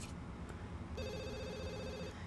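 A telephone in The Sims 2 rings with a bright electronic trill that starts about a second in and runs for about a second, set against a steady background hum.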